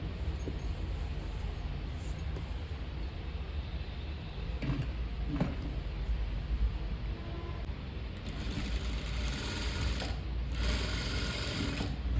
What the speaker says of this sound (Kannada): ಸೆಂಟರ್ಗೆ ಒಂದು ಸ್ಟಿಚ್ ಹಾಕ್ಕೊತೀನಿ ನೀಟಾಗಿ